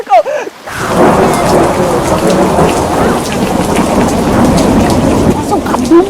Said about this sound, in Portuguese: Ele enviou uma grande tempestade que se abateu sobre aquele barco.